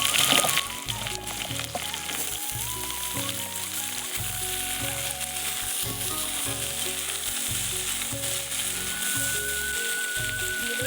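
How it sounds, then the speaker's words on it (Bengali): Cut potatoes frying in hot oil in a pan, a loud, dense sizzle that starts with a burst and then holds steady with crackling throughout, while a faint tune plays in the background and nobody speaks. "এবার কেটে রাখা আলুগুলো ভেজে নেব।"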